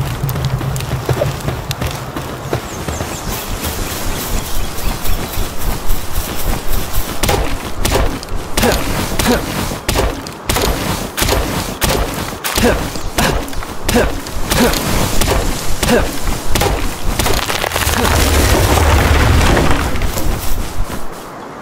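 Repeated wooden chopping and thudding blows while gathering materials in the survival game Palworld, a steady run of close knocks and cracks with game music underneath.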